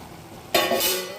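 Bottle gourd vegetable stirred and sautéed in a pan: a sudden burst of sizzling about halfway through, holding loud and steady with faint spoon scraping, close by.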